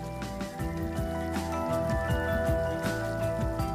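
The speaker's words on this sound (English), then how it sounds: "opens the hot tap once more to confirm that the hot water is available" Hot water runs from an opened tap after a new water heater is installed, giving a steady, close splashing and dripping patter under a sustained musical tone.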